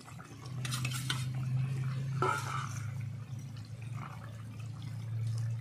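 Fish pieces go into a pot of boiling moringa stem and potato curry, giving a steady bubbling simmer with soft splashes and a clink against the pot, close and continuous.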